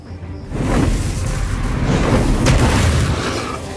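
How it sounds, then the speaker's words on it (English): A magic fire attack in the video game Dark Realm: Queen of Flames erupts as a loud, sustained whooshing boom of roaring flame that swells after a quiet start and rumbles on steadily, with a brighter burst midway. "Now, attack it with magic fire!"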